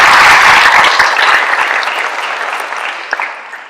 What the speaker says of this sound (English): let's give Pat a round of applause